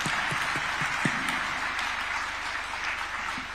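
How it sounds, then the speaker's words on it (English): Sustained applause from an audience at a Katiba Day constitutional panel event honoring the President, a dense continuous wash of clapping at steady loudness with a low hum underneath, no talking. "I want to hear a round of applause for the President."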